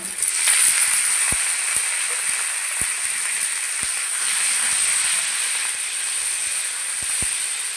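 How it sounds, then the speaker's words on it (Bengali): Tomatoes frying in hot oil with onion and green chillies for a dried fish, eggplant and potato curry, a steady close sizzling hiss with occasional soft clicks of stirring and no talking. "লঙ্কা আর পেঁয়াজের সঙ্গে টমেটো একটু ভেজে নিয়েছি"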